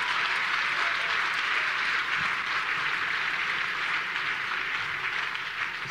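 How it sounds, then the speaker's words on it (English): Sustained applause from a large church congregation at a Sunday service fills the room, steady and dense throughout with a few faint voices mixed in. "Give the Lord a big round of applause."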